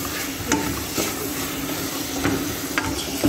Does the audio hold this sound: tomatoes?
yes